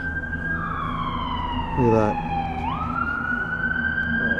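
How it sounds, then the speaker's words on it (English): Police sirens wailing near Leakin Park, a steady high-pitched wail that dips and swings back up, heard moderately close with a brief spoken comment over it. "There's a police siren that way, this way, and this way."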